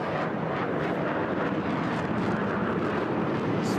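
A HAL Tejas fighter jet roars overhead at the Bahrain air show as it comes round for its next manoeuvre, a broad, steady distant rush of engine noise with no talk.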